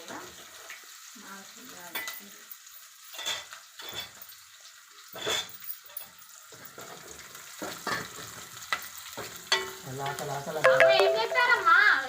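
Tomato pigeon-pea dal frying in a pan in a village-style kitchen: a steady, close sizzle broken by scraping stir strokes and light utensil clinks. Some louder spitting and sputtering swells near the end.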